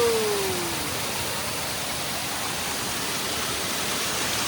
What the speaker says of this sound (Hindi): मिनी झरना दोस्तों